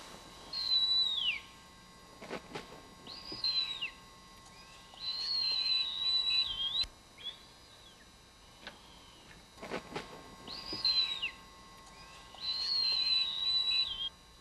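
A pair of Blakiston's fish owls call together in the wild, giving repeated short whistled phrases in three or four bouts. Faint ticking and background hum run underneath.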